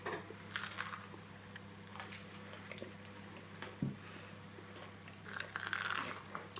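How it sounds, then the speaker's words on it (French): Someone bites and chews a crusty homemade no-knead loaf with crisp crackling crunches. The bites come in a few irregular bursts close to the microphone over a quiet background hum, with no talking. "Donc on voit qu'il est bien croustillant."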